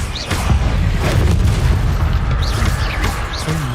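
A Confringo explosive spell in Hogwarts Legacy goes off as a loud, booming blast, with dense low rumble holding steady for several seconds and a few sharp bursts breaking through.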